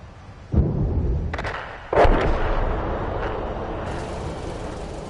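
Artillery shells exploding in the console tank game World of Tanks: two loud, close booms about a second and a half apart, each with a rumbling decay and crackling debris, then a steady engine drone.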